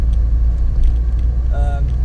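A Citroen car grinds up steep Stoke Hill in first gear, its engine a loud, steady low rumble heard from inside the cabin, with a brief tonal whine near the end.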